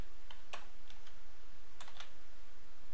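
A few quick keystrokes click on a computer keyboard while code is typed, close and crisp with pauses between small bursts.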